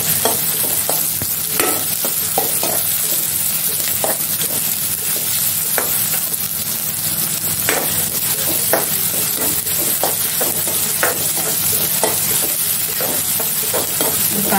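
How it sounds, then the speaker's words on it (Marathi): Chopped onion fries in hot oil in a pan as the base for a black chicken curry, with a steady loud sizzle throughout and frequent scraping stir strokes on top. "फोडणीसाठी घेतलेला कांदा आहे तो टाकते."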